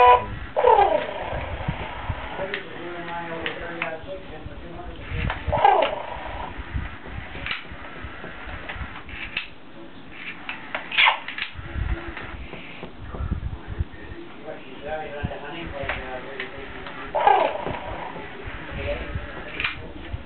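Pet bird cooing indoors in a home, soft repeated coos at moderate distance, mixed with background murmurs of people talking.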